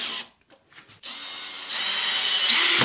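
A power tool drives a screw to refit a door hinge into wood, with a few short bursts, then a sustained loud whir that keeps going to the end.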